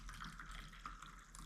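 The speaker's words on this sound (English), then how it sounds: "I'm adding hot water." Hot water being poured makes a steady, soft splashing trickle with no break. It is faint and continuous, and no talking is heard.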